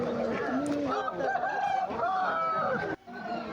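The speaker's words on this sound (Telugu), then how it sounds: "ఇది నెమలి పుంజు" A rooster crows at a busy Sunday poultry market, its long drawn-out call rising and falling over nearby crowd noise and other clucking fowl before cutting off abruptly.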